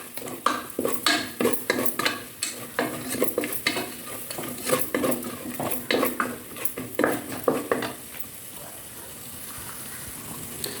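Mandi masala being stirred into a pot for beef mandi, a spoon scraping and clinking against the metal in a steady run of sharp, close strokes over a faint sizzle, then a quieter stretch at the end.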